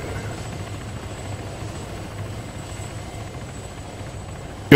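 A helicopter in the video game ARMA 3 drones steadily with a low rotor rumble and hiss, continuous and fairly loud, with no voices over it.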